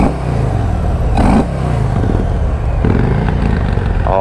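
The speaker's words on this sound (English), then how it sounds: "the Fat Boy is always one of my favorite sounding Harleys. It actually still sounds like a Harley." A 2024 Harley-Davidson Fat Boy 114 motorcycle engine rumbles loud and close with a deep, steady throb, the revs rising and falling through the few seconds.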